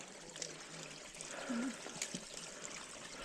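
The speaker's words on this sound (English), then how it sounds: "there are a lot of these little creeks up here" A small mountain creek trickling and gurgling softly in the background, a steady faint burble of water with no voices over it.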